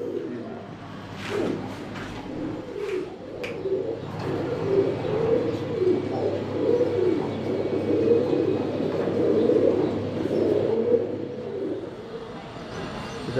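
Fancy pigeons, including Iranian breeds, coo in a loft, a dense overlapping chorus of low rolling calls. Scattered sharper chirps and wing flutters rise above it early on, and the cooing swells and continues throughout.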